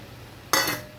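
Paneer pieces dropped into a pan for paneer posto, heard as a sudden bright clatter and sizzle burst halfway through, then fading after a fraction of a second against quiet background.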